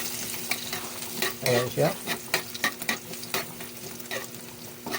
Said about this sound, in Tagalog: At tapos isunod natin mga lods yung ating bawang. Ito yung bawang natin. Ayan. I-mix lang natin mga lods.